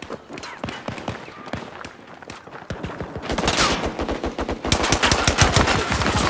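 Heavy automatic gunfire in the shooter game Battlefield 2042, with dense rapid bursts that grow louder and more continuous in the second half, near and overlapping, with shouted in-game voices under them.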